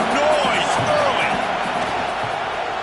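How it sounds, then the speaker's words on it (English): A college football stadium crowd at an NCAA game gives off a loud, steady roar for the whole stretch, with voices blended into the wash. "This crowd bringing the energy and noise early."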